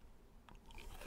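A single crisp bite into a Bourbon Petit Kuro Cocoa cookie, a short quiet crunch followed by a little brittle crackle up close, alone without talk.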